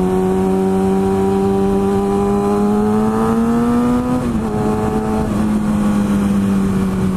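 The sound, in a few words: motorcycle engine revving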